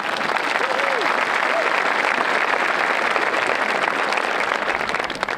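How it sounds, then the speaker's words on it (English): Graduating-class audience applauding steadily at a high school graduation ceremony, a dense, continuous clapping wash that holds loud for the whole stretch, with a brief voice or whistle rising faintly early on. "A round of applause for them as well."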